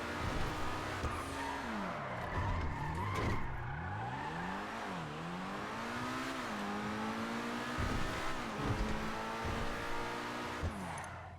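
A supercar in the racing game GTA 5 revving through rising and falling engine notes, with gear shifts and tire squeals from skidding, continuous and fairly faint with no talking.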